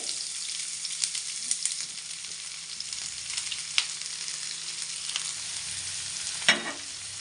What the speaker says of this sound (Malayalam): ഇനി ഇതിലേക്ക് കനം കുറഞ്ഞ് അരിഞ്ഞു വെച്ചിരിക്കുന്ന സവാളയാണ് ചേർത്ത് കൊടുക്കുന്നത്